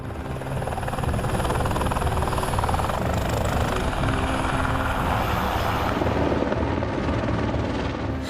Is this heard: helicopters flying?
yes